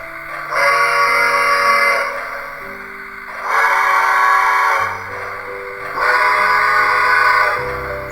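A Lionel Polar Express ready-to-play toy train whistle, Bluetooth-controlled, sounds three times in long, loud, multi-tone blasts, each lasting over a second with short gaps and faint background music.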